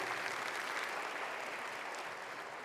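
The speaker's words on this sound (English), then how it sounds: "give them a round of applause" Conference audience gives past presidents a round of applause, a steady even wash of many hands clapping heard from some distance, sustained throughout without speech.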